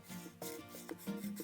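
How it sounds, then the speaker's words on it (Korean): Sandpaper rubs back and forth over a small wooden piece for a wood speaker, a soft close scratchy rasping in short strokes. "사포질을 할 거예요"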